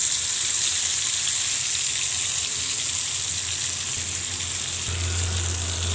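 Steady, broad sizzling of dried fish frying in a little hot oil in a pan, continuous and fairly close, with a low hum shifting near the end.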